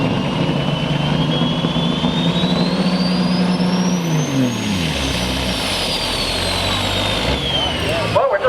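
Diesel truck pulling a sled at a pulling event, a loud sustained engine roar that drops in pitch as it strains, heard from a distance with an announcer talking over it.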